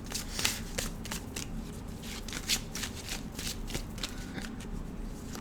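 An Oracle of Trees card deck is shuffled close up, giving repeated crisp riffling bursts and soft card slaps in an irregular rhythm against a quiet room.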